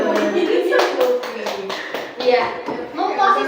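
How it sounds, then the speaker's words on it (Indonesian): Classroom applause for a student, a brief burst of hand clapping with children and a teacher talking over it at close range. "tepuk tangan untuk Buyun."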